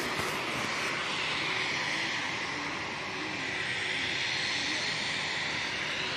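A British Airways airliner passes at Manchester Airport with a loud, sustained jet roar and broad hiss, a faint whining tone drifting through the steady engine noise.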